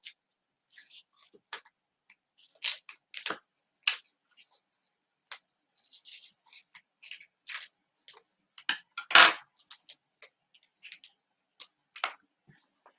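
Scissors cutting craft material down the middle, giving a series of short crisp snips and crunches in an irregular rhythm, each close and distinct with quiet gaps between.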